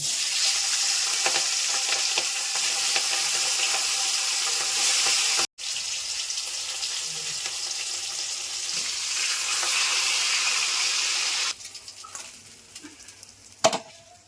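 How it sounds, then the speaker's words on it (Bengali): Hilsa fish pieces fry in oil with a loud, steady, close sizzle that cuts out briefly, then settles down quieter toward the end, ending with a sharp clank. "বাকি মাছগুলো আমি ভেজে নিচ্ছি।"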